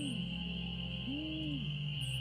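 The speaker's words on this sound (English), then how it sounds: "so that is an owl somewhere" An owl hoots in the Nancy Drew Ghost Dogs of Moon Lake game, two soft, low hoots spaced apart over a quiet, steady night ambience with a faint high insect-like drone.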